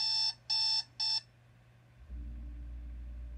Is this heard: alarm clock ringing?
yes